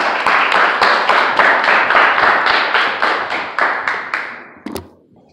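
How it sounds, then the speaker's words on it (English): Audience applause at a public-speaking session for young girls, a close group clapping in a fairly regular, pulsing rhythm that carries on for several seconds, then thins out and stops with a few last claps. "Next round of applause."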